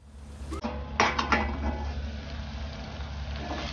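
A metal lid set onto a pot of prawn masala: a couple of sharp clanks and a rattle as it settles, then a steady low simmering hiss, close by with no talk.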